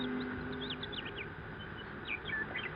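Birds near a seaside cliff as a radio drama sound effect, with scattered chirps and tweets over a steady windy, surf-like background wash, moderately faint and with no voices.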